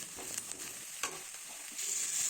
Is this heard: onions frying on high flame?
yes